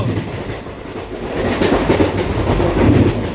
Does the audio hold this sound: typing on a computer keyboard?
no